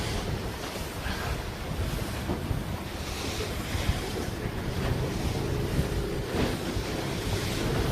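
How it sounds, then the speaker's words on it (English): Steady roar of ocean waves and strong wind buffeting the microphone aboard a racing catamaran taking green water over the deck in an Australian championship sailing race, continuous and loud with no talk. "A few bad waves here, Bucko."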